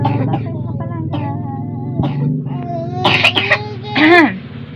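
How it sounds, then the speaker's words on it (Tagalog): A young girl coughs several times with a dry, hacking sound, the coughs close and loud, mixed with small vocal noises and a whimper near the end. "So, ganyan yung ubo niya mga langga. Sobrang tuyo-tuyo."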